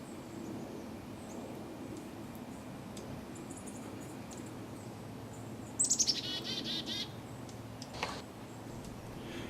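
Hairy woodpecker at Johnson Creek gives a sharp, loud call burst close by, followed by a fainter single note, over steady low outdoor background noise.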